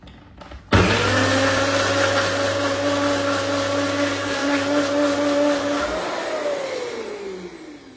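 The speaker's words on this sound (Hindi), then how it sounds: "उसको पानी समेत हम मिक्सर में डाल के दरदरा पीस लेंगे" A mixer grinder coarsely grinding soaked red chillies with their water starts abruptly and runs loud and steady for several seconds, its whine shifting pitch near the end as it winds down.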